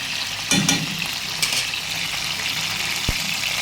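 Sliced pointed gourd fries gently in oil on low heat for potol posto, giving a steady soft sizzle with a few light stirring scrapes and no talk.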